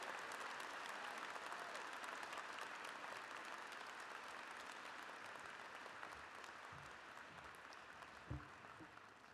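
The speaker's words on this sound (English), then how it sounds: "Let's give them another round of applause." An audience at a Hofstra University inauguration applauds steadily, a sustained wash of clapping from a large crowd that slowly fades, with a couple of soft thumps near the end and no speech.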